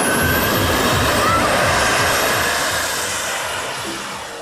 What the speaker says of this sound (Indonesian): lihat di sini ada pesawat jet tempur